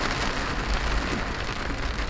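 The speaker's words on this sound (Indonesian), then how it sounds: "sekarang lagi kondisinya hujan." Steady rain drums on the roof and windows of a car, heard from inside the cabin as a dense, continuous hiss without letup and with no talking.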